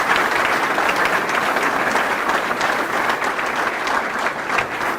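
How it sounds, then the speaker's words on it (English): Sustained audience applause at a scholar-athlete recognition awards ceremony, a dense, steady wash of many hands clapping at even loudness throughout, with no talk over it. "So I would like for you to give them a round of applause as well,"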